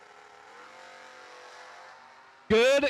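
Drag race at the New Year Nationals between an LS-powered Camaro and a 1992 Mustang, a steady engine roar heard from a distance before a commentator's voice breaks in loudly at the end.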